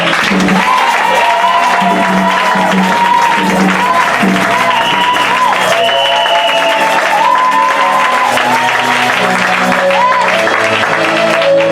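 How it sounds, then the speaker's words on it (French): A church congregation applauds and cheers to acclaim the Lord, a dense, steady wash of clapping and voices that fills the room at close range, with sustained tones running through it. "J'aime bien qu'on acclame le Seigneur"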